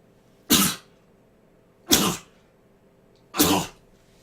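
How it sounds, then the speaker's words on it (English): Three sharp, breathy sneezes from a person with flu, evenly spaced about a second and a half apart, close and loud against near silence. "I'm going to sneeze."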